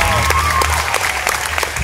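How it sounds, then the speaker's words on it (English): A crowd applauds steadily throughout, dense clapping with a low rumble of voices mixed in. "Give yourselves a round of applause."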